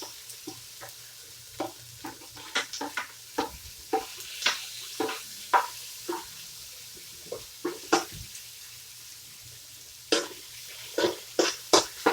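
Garlic sautés in a pan for Filipino ginisang repolyo. Soft sizzling sits under frequent sharp scrapes and clinks of stirring against the pan, close by and irregular, with no talking.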